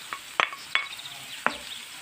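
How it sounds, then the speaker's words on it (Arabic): Onion and garlic frying in hot oil in a pan, a soft continuous sizzle broken by a few sharp scraping clicks of a utensil stirring against the pan, close and fairly quiet. "في طاسة كده سخنة هنحط زيت ويسخن جامد، وبعد كده هننزل بالبصل والثوم"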